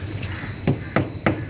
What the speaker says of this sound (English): So try with our new hammer, so-called hammer, banana as a hammer